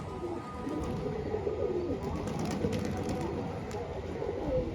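An old Salara pigeon coos softly and steadily, a low continuous murmur close to the microphone with faint outdoor background.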